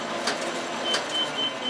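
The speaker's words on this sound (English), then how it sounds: "Started feeding paper to the machine" A printing press feeds sheets of paper, giving a mechanical hum punctuated by soft periodic clacks and a faint high whine, with a fairly steady, close-up level and no speech.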